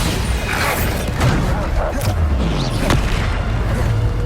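Bombarda blasting spells exploding during a Hogwarts Legacy battle, heavy sustained booms and crashing rumble with a few sharp cracks, loud and dense throughout, with faint speech underneath.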